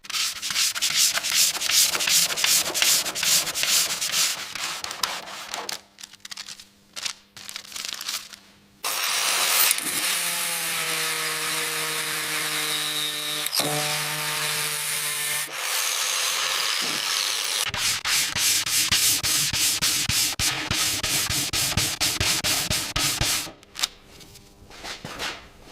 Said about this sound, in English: Careful sanding is crucial for leveling the surface,